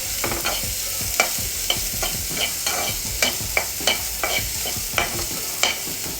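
Onions frying in a pan until golden brown, a steady close sizzle with regular scraping stirs and soft knocks of the spatula.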